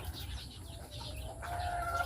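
Chickens on a Philippine egg farm cluck and murmur steadily at close range, a busy flock of layers with no voices over them.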